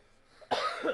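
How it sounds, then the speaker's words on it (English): A single short, sharp cough bursts out close to the microphone after a moment of quiet. "I coughed."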